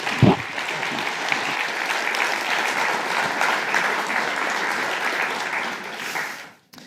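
Sustained applause from the audience at a college athletics hall of fame induction ceremony, a steady, even wash of clapping lasting several seconds before cutting off abruptly at the end.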